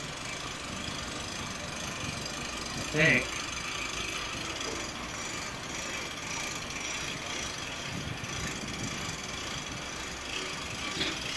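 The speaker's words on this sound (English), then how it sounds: "The noise in the background is the other barge, and they are lifting up one of their support stabilizers." A barge engine drones faint and steady in the distance while the barge lifts one of its support stabilizers on a canal in Hudson, Florida, with a brief clank partway through and someone speaking briefly.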